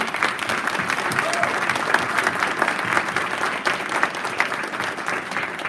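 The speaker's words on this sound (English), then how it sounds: "give a really, really nice applause to Mr. Marlowe, as well as his A&N and Tiger Tech students" A board meeting audience gives sustained applause for Mr. Marlowe and his A&N and Tiger Tech students: dense, steady clapping from many hands that holds at an even level from start to finish.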